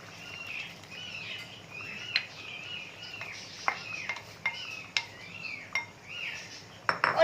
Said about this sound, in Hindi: अब हम ढक्कन हटाएंगे और इसमें प्याज और दही का जो पेस्ट है वो डाल देंगे।